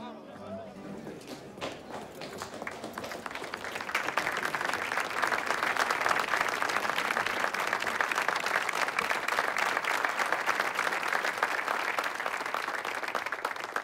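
Applause from a welcoming crowd at a formal reception for a general, starting with scattered claps and swelling into dense, steady clapping that holds loud and close, with voices and murmurs mixed into the first seconds.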